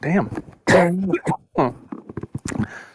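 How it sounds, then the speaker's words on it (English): A person coughs a few times amid their own speech, the sharp bursts mixed in with talking. "my turn to talk and I start coughing"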